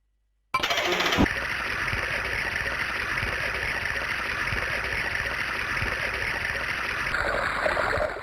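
Water rushing steadily into a machine in the video game INCA II, a dense continuous stream that starts abruptly after a short silence and holds at an even, fairly loud level until the end.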